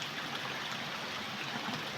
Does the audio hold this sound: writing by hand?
no